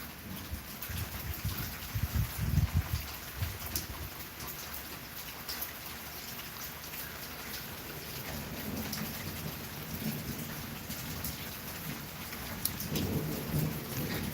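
A thunderstorm in East Oklahoma City: steady rain patters on surfaces throughout, with low rolling thunder rumbling near the start and again toward the end, no voices present.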